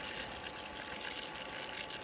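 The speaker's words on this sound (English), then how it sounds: "Here you can see the water pulling through the pump" Steady broadband rush of water pulled through an AQUASTRONG PSP300 variable speed pool pump, a continuous even whoosh with a faint motor hum underneath, close and unchanging with no voices.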